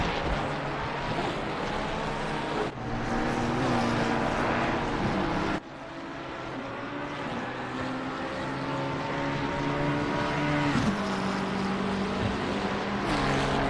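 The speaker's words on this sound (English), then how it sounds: "Engine's still too loud." A race car engine in Assetto Corsa Competizione, racing at Brands Hatch, drones loud and continuous throughout. The pitch rises and falls with gear shifts, with abrupt drops where the revs cut.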